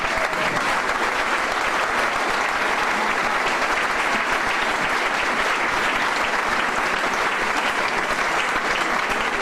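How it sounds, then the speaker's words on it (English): An audience at a tribute evening claps loudly and continuously throughout, a dense, even wall of applause with no break. "Sandra, I would like a big hand of applause for them, please"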